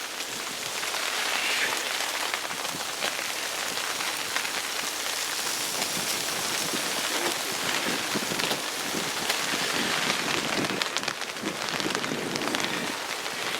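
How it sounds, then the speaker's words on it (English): Heavy rain pours steadily onto a tarp shelter in the wilderness, a dense, close patter of drops drumming without letup for the whole stretch, with no voices. "It's been pouring on and off all day,"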